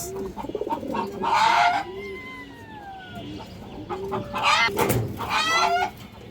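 Pigeons in a loft, including Kajla-marked hens, give soft repeated coos and short bursts of wing flutter close by, with occasional clucking calls over steady low background noise.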